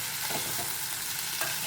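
Onion, garlic and tomato are sautéed and stirred in a pan for a quick steamed ivy gourd bhaji, producing a soft, even sizzle throughout with faint stirring scrapes and no voices.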